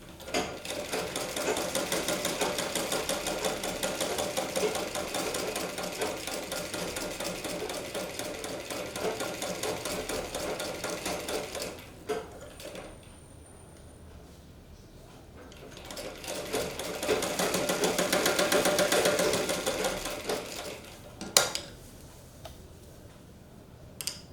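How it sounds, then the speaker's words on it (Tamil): Sewing machine stitching a blouse sleeve, a fast, even mechanical rattle running in two long bursts separated by a quiet pause, with a few sharp clicks as the stitching stops. "இப்போ அப்படியே இந்த சென்டர்லேருந்து அடுத்த போர்ஷனை தைப்போம்."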